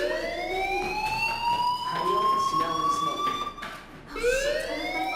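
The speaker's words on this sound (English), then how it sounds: "do you hear that fire alarm?" Fire alarm in the Life is Strange video game, a loud wailing siren tone sweeping up and holding, restarting after a brief dip, with voices speaking over it.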